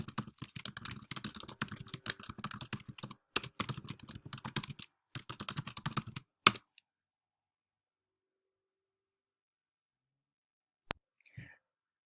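A computer keyboard is typed on in quick, irregular bursts of close clicks for about six seconds while a search term is entered, then silence follows with a few faint clicks near the end.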